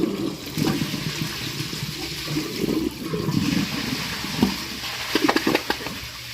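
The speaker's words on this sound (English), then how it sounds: "let's try flushing my list of punishments that I made and see if the list is long enough to clog the toilet" A Glacier Bay toilet flushes with a paper list dropped into the bowl, giving a loud, close rush and swirl of water that holds steady for several seconds. Gurgling spurts follow near the end as the bowl drains.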